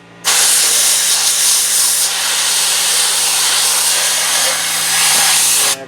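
A Harbor Freight portable sand blaster gun sprays baking soda media onto an old crusty surface, producing a loud, continuous, close-up hissing blast that runs for several seconds before cutting off abruptly.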